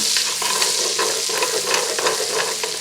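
Onions frying in a soup pot for potato and bacon soup, a loud, close, steady hiss of sizzling with light rhythmic stirring scrapes and no voices.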